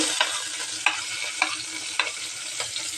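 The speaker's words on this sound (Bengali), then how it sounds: "আমি প্রথমে দিয়ে দিচ্ছি মরিচ কুটি" Chopped chilies fry in hot oil at the start of an egg bhuna, a dense continuous sizzle with a few sharper spatters and clinks of stirring at roughly half-second intervals, close and without any voices.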